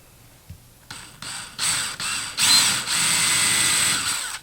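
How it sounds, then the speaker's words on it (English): A drill spinning a 1/2 inch Forstner bit into wood to cut a countersink, starting with short bursts that ratchet up, then a sustained loud whirring bore, close and without speech. "We're going to use our 1/2 inch Forstner bit to create a countersink"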